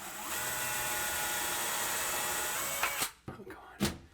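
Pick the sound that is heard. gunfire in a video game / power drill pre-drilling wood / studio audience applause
power drill pre-drilling wood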